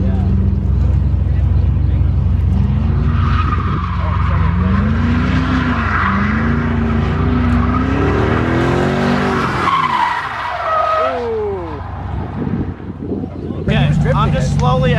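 A drift car held sideways at a drift event, engine roaring loud and close with rising and falling revs and squealing tires throughout, with voices in the background.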